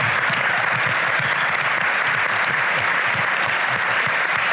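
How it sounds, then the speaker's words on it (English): Audience applause at a talk event on climate and the Earth, a dense, steady roar of many hands clapping, loud and continuous without speech. "a round of applause for Inga"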